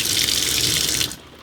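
Water sprays from a shower on an off-grid water system indoors, a loud, steady rushing hiss that cuts off after about a second.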